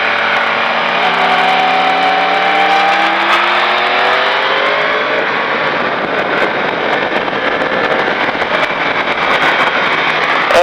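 A racing motorcycle on the Bresse circuit accelerates hard, its engine screaming loud and close as the pitch climbs through rising whines, with constant wind roar over the rider's tuck.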